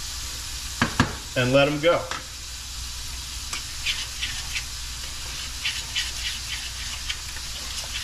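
Shrimp sizzle steadily in a hot pan, a constant crackling hiss with scattered pops that runs through the clip after a person talks briefly at the start.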